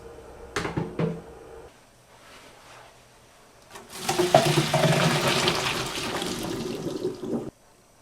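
Water pouring as cooked carrots are drained, a steady rushing splash lasting several seconds after a few clattering knocks from the pot, fairly close and loud before stopping abruptly.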